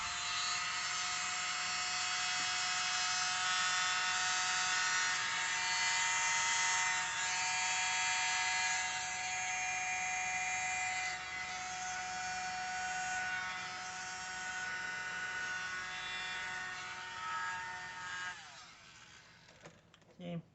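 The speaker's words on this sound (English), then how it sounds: "I'm going to use my little world's smallest blower to blow it out." A tiny electric blower runs steadily at close range for about eighteen seconds, a thin whining hum drying freshly poured paint treated with cell activator, then cuts off near the end.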